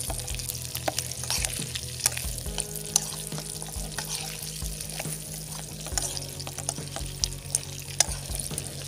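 Steady oil sizzle and crackle from food frying in a pan, with occasional stirring clinks and pops throughout.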